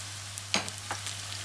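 Red capia peppers sizzle in a pan with a low, constant hiss, broken by a couple of short clicks or crackles, close and brief.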